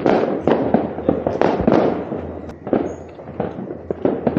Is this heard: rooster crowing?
no